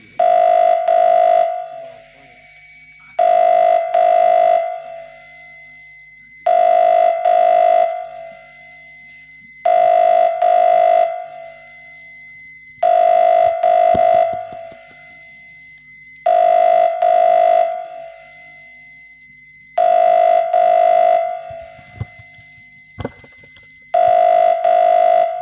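A telephone call rings out in repeated two-second tone bursts separated by short silences, steady and loud, about eight rings, with faint background noise between them.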